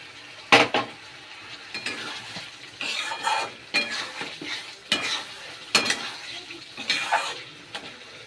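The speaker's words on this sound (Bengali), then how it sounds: "তারপরে মশলাটা ভালো করে কষানো হয়ে গেছে, সাইড দিয়ে তেল ছেড়ে দিয়েছে, এবার এই ভাজা আলুগুলো এর মধ্যে দিয়ে দেব।" Fried potatoes are stirred into a well-cooked masala with oil separating in a pan, giving repeated scraping stirs and clinks of a spoon against metal over a low sizzle, moderately quiet and close.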